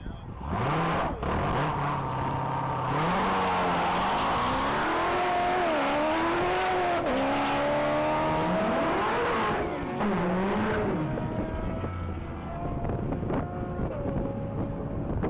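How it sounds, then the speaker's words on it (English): A 2016 Chevrolet Corvette Z06 makes a loud top speed run at a mile-long racing event, its engine note climbing through repeated gear changes over roughly fifteen seconds, with heavy wind noise across the microphone. "On deck is vehicle number 730. That's a Starling issue piloted 2016 Chevrolet Corvette Z06."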